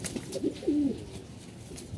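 A soft, close pigeon coo rolls out from a loft of coloured racing birds, a couple of throaty calls in quick succession against quiet background, no talking.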